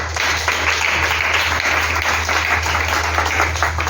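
A church congregation breaks into loud, sustained applause that fills the room evenly for the whole stretch, with a low hum underneath.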